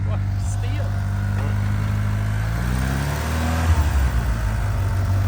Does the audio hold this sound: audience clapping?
no